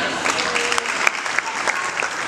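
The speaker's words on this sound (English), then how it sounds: "Please give the program a round of applause." An audience at an African kids' and teens' fashion show gives steady, close applause of many hands clapping together, with faint voices mixed in.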